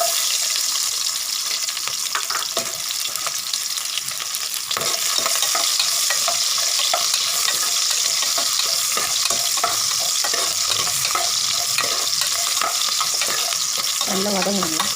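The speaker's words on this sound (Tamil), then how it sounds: "நல்லா வதங்கணுங்க." Small sambar onions, 200 grams, sauté in a pan with a steady, dense sizzle, broken by occasional spatula scrapes and stirring clatter throughout, loud and close with no talking.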